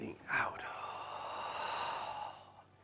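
A long, steady exhale during a qigong breathing exercise, drawn out over about two seconds after a brief sharp intake, close and fairly soft with no talk.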